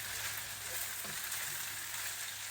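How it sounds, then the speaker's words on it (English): Scallions sizzle in a hot oiled pan, a steady close frying hiss throughout, with a faint scrape or two of stirring and no talk. "Next, I'm going to add the scallions with that. We are just going to stir this all around now."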